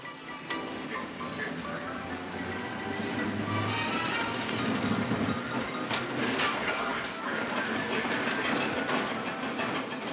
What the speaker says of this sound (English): Here's the train heading south past South Park Junction.